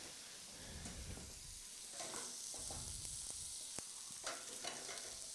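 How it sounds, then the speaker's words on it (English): Beef for nachos sizzles steadily in a hot pan, a continuous crackling hiss broken by scrapes and taps as it is stirred, close and clear with no talking. "we're going to take our beef. Got a nice sizzle."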